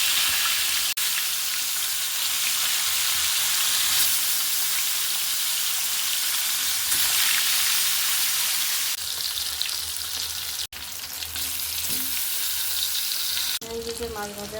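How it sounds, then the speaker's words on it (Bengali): Sarpunti fish and pointed gourd fry in hot oil, giving a steady, dense sizzle that runs throughout, close to the pan, with a few brief clicks and stirring sounds. "আজকে সরপুঁটি মাছ ভাজতেছি, তার সাথে পটল ভাজবো"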